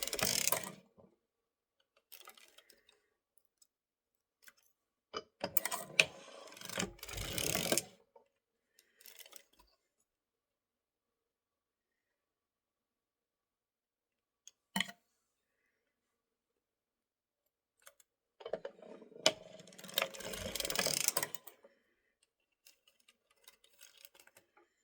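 Circular sock knitting machine in use, giving off scattered mechanical clicks and ratcheting bursts in clusters separated by quiet gaps, with a short sharp click partway through.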